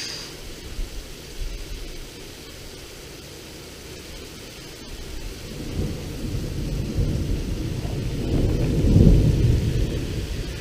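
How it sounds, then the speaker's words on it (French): A multicell thunderstorm in Tour-en-Sologne, France, with steady rain and a deep rumble of thunder that swells louder toward the end, broad and close. "Ça c'est un orage, ça. Ça c'est un vrai orage."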